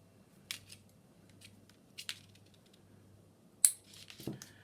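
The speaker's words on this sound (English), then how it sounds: "get your snips and snip off your tag ends" Snips clip off the tag ends of fishing line on a beach pulley rig, giving a few sharp, close, isolated snicks spaced through an otherwise quiet background.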